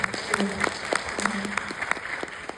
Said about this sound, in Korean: 박수 한번 부탁드리도록 하겠습니다.